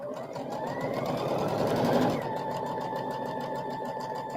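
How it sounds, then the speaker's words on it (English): A sewing machine runs steadily, stitching a quilted table runner with a close, continuous mechanical whir that briefly swells louder before settling back to an even hum. "just start sewing."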